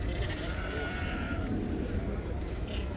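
Dutch Spotted sheep bleating at a livestock show, a brief bleat amid a busy, noisy background with voices.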